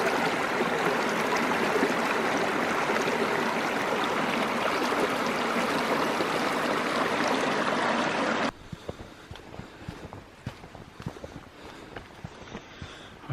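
A small waterfall and stream in a fall forest, with steady rushing water that stays loud and continuous for most of the stretch, then drops to a thinner trickle with scattered splashes and footsteps near the end.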